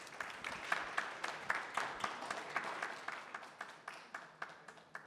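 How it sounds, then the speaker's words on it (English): An audience at a conference panel session applauds, a crowd of steady clapping that gradually thins into a few scattered claps. "Let's give applause to our panelists."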